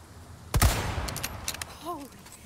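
Single sharp gunshot in Resident Evil 4 Remake, loud and close, followed by a short echoing tail and faint clatter, with a brief voiced sound shortly after.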